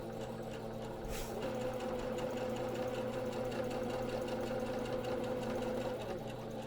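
A sewing machine stitches fabric for embroidering an apron. It gives a steady, continuous mechanical whir with a fast repeating rhythm, close and alone with no talk, and there is a brief click near the start.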